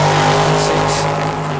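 Drag racing at Tucson Dragway with a dragster and a 1966 Chevy II Nova at the line, a loud steady engine roar filling the whole moment, with a commentator talking over it.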